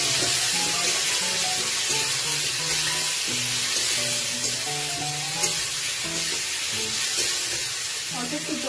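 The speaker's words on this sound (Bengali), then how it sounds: "এই যে আলুটা ভাজা হচ্ছে তার সাথে এই মশলাগুলো মিলিয়ে একসাথে দিয়ে" Potatoes fry in a pan with spices, giving a steady, close, loud sizzle with some stirring. A voice speaks faintly underneath.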